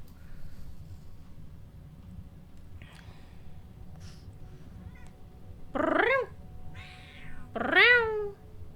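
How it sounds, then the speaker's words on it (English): A cat meows in the Ark video game, two loud rising yowls several seconds apart after a few faint chirps, heard over a quiet low background hum. "Meow."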